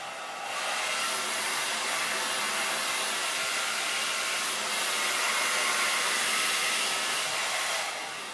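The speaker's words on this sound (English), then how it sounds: "you can see him get blow dried" A hair dryer blows steadily on a white Pomeranian dog after its bath, a loud, continuous whooshing roar that holds for several seconds with no talking.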